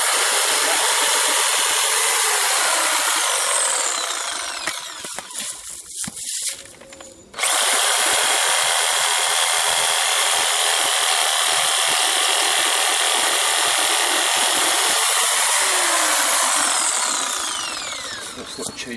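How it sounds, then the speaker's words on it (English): A Bosch PSA700E electric reciprocating saw cuts through old wood stumps, a loud, sustained buzzing rasp close by that dips and briefly stops midway, then resumes steadily before tapering at the end. "that's my Bosch PSA700E electric saw"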